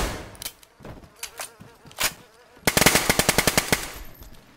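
Video game gunfire in DayZ, with scattered single shots followed by a rapid burst of about a dozen sharp cracks as a magazine is emptied, loud and without speech.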